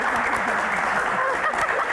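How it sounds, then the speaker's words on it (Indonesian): Audience applause for panelists at an Indonesian talk-show style panel, a steady dense wash of clapping filling the whole stretch, with voices talking faintly underneath. "Tepuk tangan dong."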